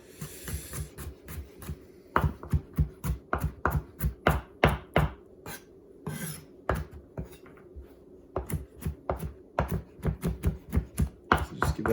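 Knife chopping fresh garlic cloves finely on a cutting board for ramen pork, rapid close, loud rhythmic taps in quick bursts with brief pauses.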